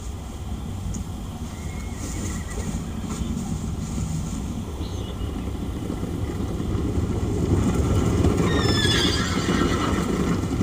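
Horses whinny and neigh in a rugged western wilderness with snow-capped mountains nearby, high calls breaking out late over a steady low rumble of ambient outdoor noise.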